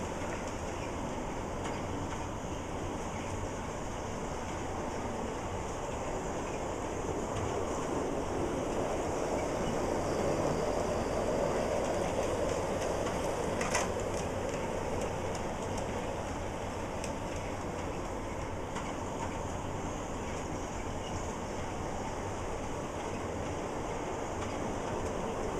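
A model train runs on a holiday layout with a continuous soft rumbling and clattering of wheels on track, steady and moderately close, with no speech.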